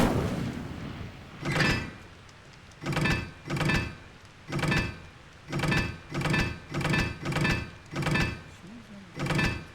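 Repeated Incendio fire spell casts in Hogwarts Legacy, about ten sharp whooshing bursts in an irregular rhythm, each loud and close with a brief tail, over a low background.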